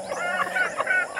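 Chickens being fed outside a house in a mountain setting give a short run of honking clucks and squawks, close and fairly loud, with no talk.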